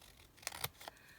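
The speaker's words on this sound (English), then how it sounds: "This needs a little bit of white trimmed off." Scissors trimming the white paper edge off a craft tag, giving a few faint, close snips in quick succession against a quiet room.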